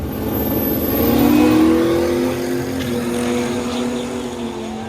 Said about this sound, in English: I'm pretty sure it's a Mercedes diesel engine.